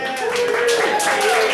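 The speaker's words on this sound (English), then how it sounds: "Give them a round of applause" Nightclub comedy-show crowd gives a sustained round of applause, a dense continuous clatter of clapping with voices cheering over it.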